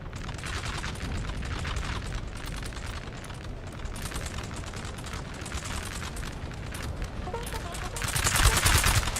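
Musket volleys and gunfire crackle through a Napoleon: Total War multiplayer battle. Dense, overlapping shots rattle continuously and swell louder toward the end.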